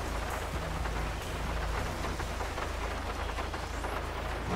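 Steady heavy rain hisses continuously, loud and close like downpour drumming on a vehicle, with a low rumble underneath and no talk.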